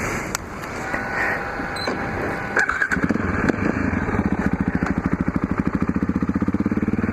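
A motorcycle idles and then pulls away, its engine building into a loud, rapid, steady throb up close, with no talk over it.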